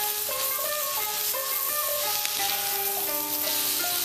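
Lamb and vegetables sizzle on a Jingisukan dome grill in a steady hiss, while a tonal melody, likely background music, plays over it throughout.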